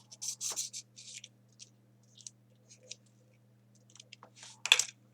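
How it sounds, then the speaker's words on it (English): Paper being cut in half with a craft cutter, heard as a series of close, crisp scratching and slicing bursts, some quick and clustered, with a sharper stroke near the end and no talking. "Next we take a cutter and we cut this in half like this."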